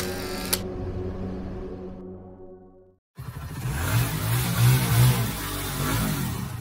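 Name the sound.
camera shutter taking a souvenir photo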